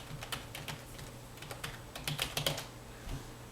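Computer keyboard keys tapped in a quick, uneven burst while a password is typed to log in, crisp close clicks with brief pauses and a low steady room hum beneath, no voices.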